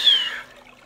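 Cold water trickling from a spring beside a mountain bike trail, a brief close splashing trickle that fades quickly, with no voices.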